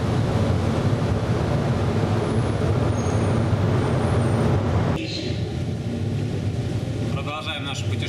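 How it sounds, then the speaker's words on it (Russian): A driverless downtown Miami monorail train rolls toward a station with a loud continuous rumble and roar that drops and softens partway through as it slows, with faint squeal-like tones near the end. "The train is approaching Miami Avenue Station"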